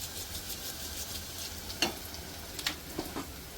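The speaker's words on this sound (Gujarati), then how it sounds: "તો કાંદા અને લસણને થોડું ગોલ્ડન બ્રાઉન કરી લઈશું." Onion and garlic fry in a pan with a steady, moderate sizzle, broken by a few sharp clicks and taps from stirring.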